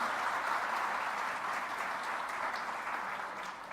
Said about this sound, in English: Can we have a big round of applause for all our winners?